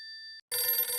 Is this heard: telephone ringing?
yes